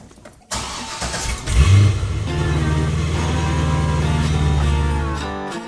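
A C5 Corvette's engine cranks and catches, then settles into a steady, deep idle rumble that holds close and loud to the end, with no voices.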